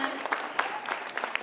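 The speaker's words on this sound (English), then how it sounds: "let's get another round of applause for our amazing," Scattered clapping from an audience at a community event, a thin round of hand claps with uneven individual peaks rather than a full roar, moderately distant and fairly quiet.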